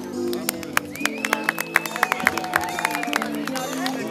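A carnival crowd claps in a burst of uneven, sharp applause with a few cheers and background chatter, the claps loud and close.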